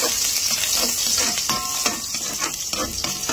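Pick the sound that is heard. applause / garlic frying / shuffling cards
garlic frying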